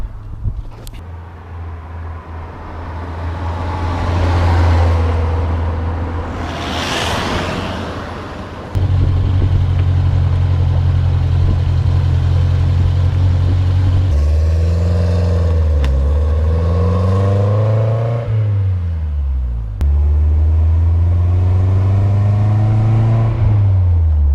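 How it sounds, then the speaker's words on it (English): A 1985 Alfa Romeo Spider Veloce's engine hums and revs as the car drives, pitch rising and falling through gear changes, loud and close for the whole stretch. "Thanks for riding around with us in the Alfa Romeo, riding around with Mrs. Denwerks"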